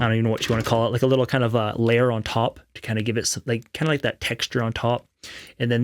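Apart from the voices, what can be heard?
None of the usual background noises is heard.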